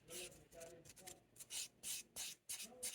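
Short strokes of a fine 180/100 grit nail file buffing around the cuticle area of a fingernail during a French manicure, a close, quiet rhythmic rubbing in bursts of roughly half a second, with a few soft pauses.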